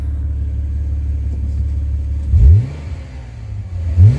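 Engine of a 2011 small car idling with a steady low rumble outdoors, then two quick throttle blips that rev up and fall back, loud and close, with no talk.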